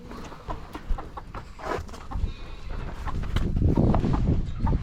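Chickens cluck and squawk in scattered bursts while a stock dog chases them across a farmyard, with rustling and movement building louder toward the end.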